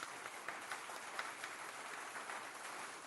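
Canned applause effect played on a radio show, a faint, even wash of many clapping hands that holds steady throughout with no voices over it.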